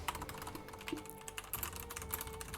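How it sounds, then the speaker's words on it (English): Rapid, steady clicking of a computer keyboard being typed on during an esports match, quiet and close, with no talking. "No, I was typing the following question."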